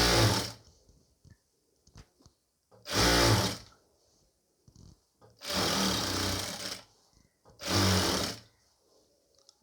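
A sewing machine stitching the armhole of a nighty sleeve, four loud whirring bursts of stitching separated by short quiet gaps with light handling clicks, close up.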